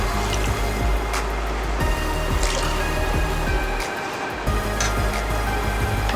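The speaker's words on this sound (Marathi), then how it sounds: "पाणी घालून घेऊया।" Water pours and splashes into cooked dal with a ground spice paste in a Maharashtrian home kitchen, a steady, close liquid gurgle with drips, and no talking.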